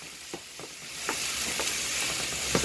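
Ground turkey sizzles steadily in a hot frying pan, a dense continuous hiss with a few soft stirring clicks, close up and without talk.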